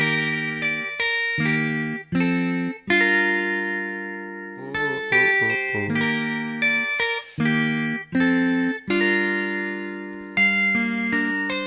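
Guitar chords ring out in a melodic sequence, each strummed or arpeggiated chord sustaining briefly before the next, with a processed, slightly effected tone.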